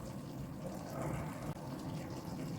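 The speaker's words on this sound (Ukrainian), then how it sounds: "Все добре перемішую і заливаю 3 літра води." Water pours steadily into a pot in a continuous rushing stream, close and fairly loud, without pause.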